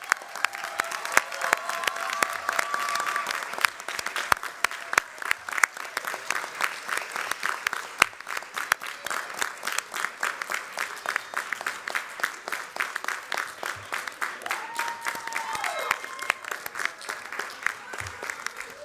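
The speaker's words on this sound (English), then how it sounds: "Please join me in one round of applause in congratulating these graduates." Audience applause for graduates at a diplomacy and international relations graduate hooding ceremony, sustained crisp clapping from a crowd that continues steadily throughout with faint voices mixed in.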